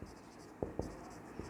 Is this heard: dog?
no